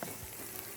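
Onions with ginger garlic paste sizzle in hot oil, a close, continuous hiss with faint stirring underneath, brief and without talk.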